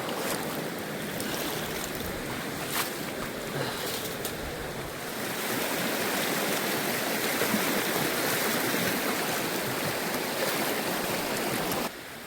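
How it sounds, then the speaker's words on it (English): Creek water rushes steadily during a stream crossing, a loud continuous broadband flow heard close by throughout, swelling slightly halfway through. "One more creek crossing left."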